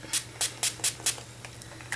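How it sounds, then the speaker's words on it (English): A rose water spray bottle gives about five quick, soft mists in a rapid, even rhythm, up close and otherwise quiet. "I'm just going to grab a rose water spray"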